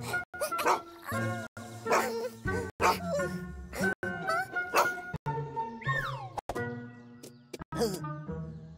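Cartoon dog barking and yipping in quick bursts, with whimpers and a rising whine, mixed with cartoon voices and background music, close and lively.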